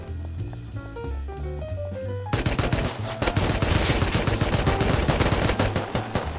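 Gunfire in the game Rust, a rapid, loud burst of automatic shots that follows a short melodic music passage and continues steadily to the end.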